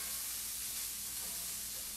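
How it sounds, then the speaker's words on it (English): Chopped onions frying in a pan, giving a steady, even sizzle and hiss that stays constant throughout, close by, with no talking. "I'm gonna put some onions in a pan and let them get started."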